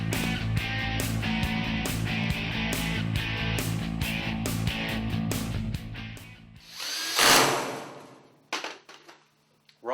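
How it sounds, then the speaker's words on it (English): A power drill drives screws into starter ductwork in short, loud, close bursts, followed by a scraping handling noise and a few faint clanks. "We're all done screwing this together."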